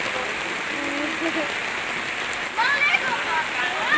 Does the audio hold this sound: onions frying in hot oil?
no